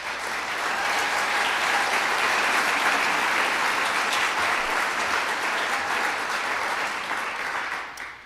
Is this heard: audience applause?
yes